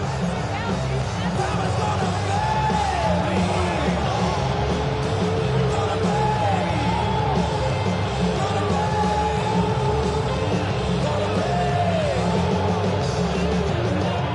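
A large football stadium crowd roars continuously during a Redskins versus Cowboys game, a dense, loud wash of yelling and cheering with scattered whoops, and a voice talks over it.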